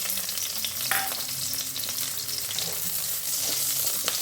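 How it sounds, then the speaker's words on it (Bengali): Onion and panch phoron sizzle in hot mustard oil in a wok, a steady close crackling fry with occasional sharp pops and stirring scrapes, no voices. "একটু ভেজে নিচ্ছি।"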